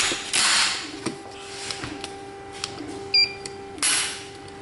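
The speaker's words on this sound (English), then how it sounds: "let's see what kind of factory trigger pull we're working with" Mechanical clicks and creaks from a trigger pull gauge measuring the factory trigger on a Mossberg 930 shotgun, with a few sharp clicks and short rasping bursts, close and fairly quiet.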